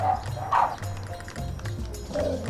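A dog barks a few times at a home, with short separate woofs fairly close and some background noise between them.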